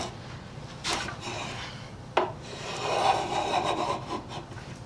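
A No. 151 spokeshave peels shavings from wood in a few rasping strokes, close and fairly soft, with a sharp knock near the middle and a longer scraping pass toward the end.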